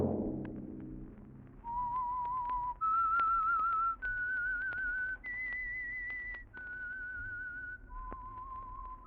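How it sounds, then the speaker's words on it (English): A lone, clear whistled melody opens The Whistler radio program, with six sustained notes stepping up and then back down. Faint footsteps tap beneath it. "Let that whistle be your signal for the Signal Oil program, The Whistler"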